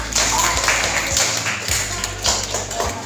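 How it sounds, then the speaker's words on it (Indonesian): A group in an Islamic teacher-training class claps together, a fairly loud, dense burst of hand claps in a room with a voice speaking over it partway. "Beri tepuk tangan kepada kita semua."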